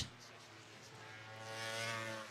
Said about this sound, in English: They build up the revs once more.